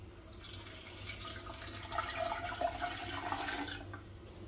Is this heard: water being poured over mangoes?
yes